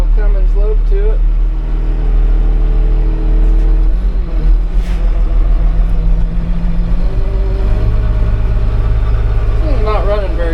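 An old Cummins diesel engine on auction heavy equipment idles rough and uneven, with a loud low rumble and shifting revs, while someone talks over it.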